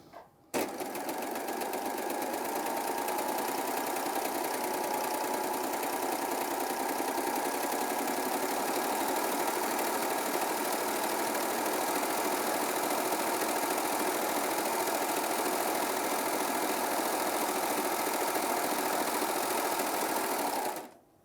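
Baby Lock Acclaim sewing machine stitching steadily around a circle, a continuous even motor hum and needle whir running unbroken for about twenty seconds, close and clear with no talking.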